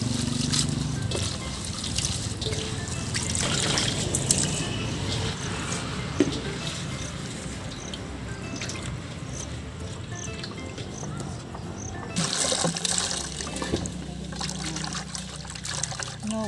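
Seaweed being washed by hand in water, a continuous splashing and trickling with sloshing and clattering bursts, close and fairly loud, and no voices.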